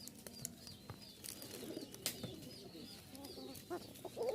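Giribaz pigeons in a loft make soft, thin cooing calls mixed with brief clucking notes and small scattered knocks, moderately close and fairly quiet throughout.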